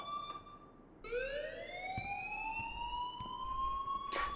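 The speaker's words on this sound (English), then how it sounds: "please turn off that alarm since that's your job" An electronic alarm in the video game Life Is Strange starts with a rising, wailing siren-like tone and holds a steady high pitch, with a few faint clicks over low background hum and no talking.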